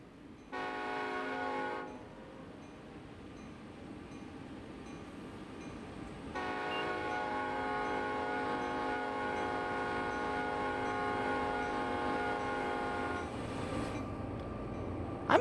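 A mile-long freight train of over 100 cars on Sherman Hill near Cheyenne in Train Sim World 2 sounds a sustained chorded horn twice, a short blast then a long one, over a steady rumbling rail drone.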